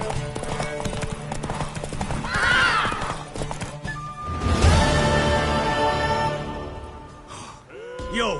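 Hooves clip-clop steadily at a gallop as a horse gives a loud neigh, with a second whinny near the end, in The Witcher 3 on PS5.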